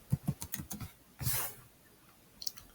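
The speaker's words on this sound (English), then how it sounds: "So I'm going to type in my address." A computer keyboard being typed on while entering an address: a quick run of about half a dozen soft key taps, a longer clatter, then a single late tap, close and fairly quiet with no talking.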